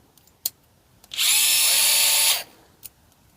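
An electric screwdriver whirs steadily for about a second, loud and close, with a few small clicks before and after.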